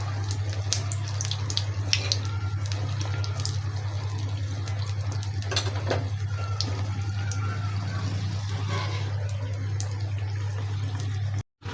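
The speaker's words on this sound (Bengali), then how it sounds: "আলুর চপ ভেজে নিচ্ছি।" Potato chops fry in hot oil with a steady, close sizzle and scattered pops and crackles for about eleven seconds. Then the sound cuts off abruptly.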